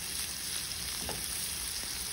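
Onion and leek softening in a hot pan make a soft, even frying hiss that holds steady at moderate volume for a couple of seconds with no stirring.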